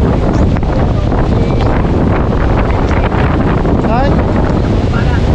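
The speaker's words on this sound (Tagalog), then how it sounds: "grabe, lakas na ang hangin" Strong typhoon winds from Typhoon Uwan buffet the microphone around a hut, a loud continuous roaring gust with rustling debris, while a voice briefly cries out.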